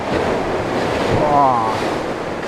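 Strong rushing water current surging near a bridge as the tide rises, a loud continuous wash with wind buffeting the microphone.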